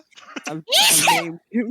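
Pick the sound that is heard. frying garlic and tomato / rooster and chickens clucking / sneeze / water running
sneeze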